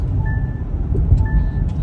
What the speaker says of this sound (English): It's making a noise, beeping.